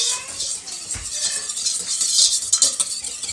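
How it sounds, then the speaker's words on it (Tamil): Wire whisk stirring chocolate cake batter in a mixing bowl, a steady fast scraping and swishing with light metallic clinks against the bowl, close and continuous with no talking. "நீங்கள் ஒரு விஸ்க் வச்சு நல்லபடியாக அதை மூலம் மிக்ஸ் பண்ணி கொள்ளுவோம்"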